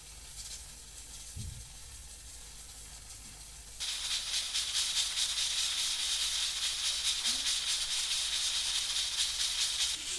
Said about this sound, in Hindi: प्रेशर कुकर को चलते हुए 15 मिनट हो गए हैं।